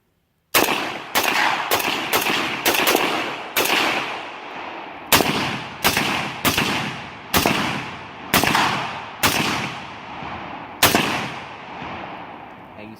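Century Arms C39v2 AK-47 rifle fired in a string of about fourteen loud, close single shots, irregularly spaced with short gaps, each with a sharp crack and decaying echo.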